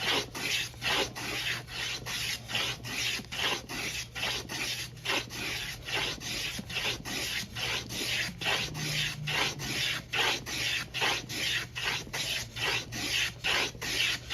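A hand tool shaves curls from a wooden guitar back brace in quick, rhythmic rasping strokes. The strokes repeat steadily and close by over a low background hum.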